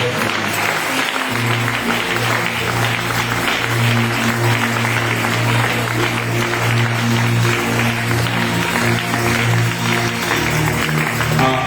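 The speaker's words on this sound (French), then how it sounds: "Acclamons pour moi" An audience at a church revival service applauds loudly and steadily, with dense continuous clapping and crowd noise that never lets up.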